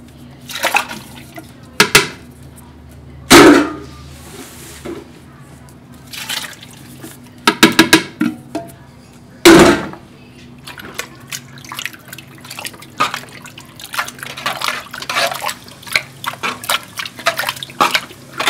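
Tomato sauce is poured into a pot of Yugoslavian fish stew, heard as wet drips and splashes with a few sharp sloshes and scattered quieter liquid sounds, close and intermittent.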